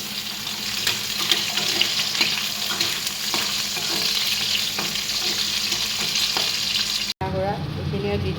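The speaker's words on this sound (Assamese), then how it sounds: "আলুখিনি দি দিছোঁ তেলত।" Potato pieces fry in hot oil in a kadai with a loud, continuous crackling sizzle and occasional stirring clicks. It ends in a sudden cut to a quieter room with faint voices.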